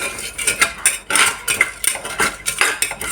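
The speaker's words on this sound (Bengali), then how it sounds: "তেজপাতা দিয়ে মুগের ডালটা আগে ভেজে নিচ্ছি।" A utensil scrapes and clinks against a pan in quick repeated strokes as moong dal is stirred and dry-fried with bay leaf, close and fairly loud.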